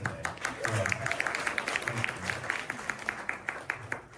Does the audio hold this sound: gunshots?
no